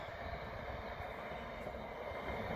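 A Class 66 diesel freight locomotive moving off through a station, its engine a loud, continuous rumble with steady rolling wheel noise that stays near and constant throughout.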